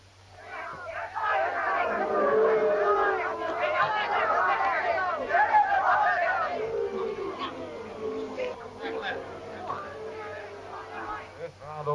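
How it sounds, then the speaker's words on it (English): Crowd at a boxing match booing two tired fighters, a broad wash of voices swelling and sustained throughout, with babble and jeering rising in the middle and tapering off. "The crowd booed their waltzing."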